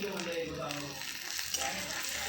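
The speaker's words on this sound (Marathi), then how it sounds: "हे बघा आपण टमॅटो टाकतो," Tomatoes drop into onions frying in a pan for egg bhurji, and a steady close sizzle with light stirring fills the moment. A voice talks faintly underneath.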